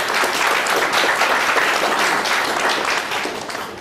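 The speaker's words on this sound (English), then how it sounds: "A round of applause for the both speakers." An audience at a talk applauds the speakers, a dense sustained wash of clapping from many hands that fades slightly toward the end.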